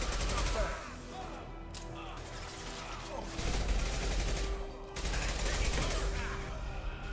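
Black hole gun firing in the video game Mass Effect 2: a dense, loud roar of layered blasts and rumbling bursts that continues throughout, with several sharp surges along the way.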